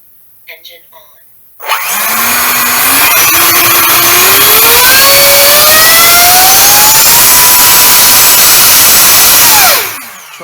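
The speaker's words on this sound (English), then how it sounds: "So I'm just going to run the motor up." The electric ducted fan motor of a balsa model jet spins up from silence into a loud, close whine that climbs steadily in pitch, holds for several seconds, then cuts off and winds down quickly.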